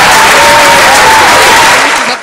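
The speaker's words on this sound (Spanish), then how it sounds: "Muchos aplausos" A studio audience at a live variety show fills the room with loud, sustained applause that tapers off near the end.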